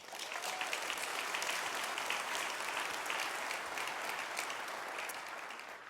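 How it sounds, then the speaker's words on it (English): Applause at a technology conference opening keynote for the event's sponsors: a large audience claps steadily and fairly evenly from start to finish, with no talk over it. "let's give them a big round of applause right now"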